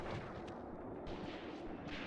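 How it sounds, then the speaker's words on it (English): Artillery fire in the WWII strategy game Mius Front: a dense, continuous rumble of booming gunfire and blasts with no clearly separated shots, steady and loud over the whole stretch. "Finally, this gun is starting to get some actual hits."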